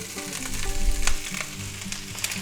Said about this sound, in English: We're just going to go ahead and put our vegetables in. You know, the carrots, celery, and onions.